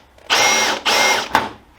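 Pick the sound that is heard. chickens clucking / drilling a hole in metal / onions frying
drilling a hole in metal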